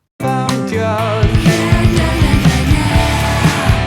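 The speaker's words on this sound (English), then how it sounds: "we get a fantastic drum fill, with double kicks and flams alternating between the snare and toms" Loud full-band rock music with a driving drum fill, double kicks and rapid flams alternating between snare and toms under distorted guitars.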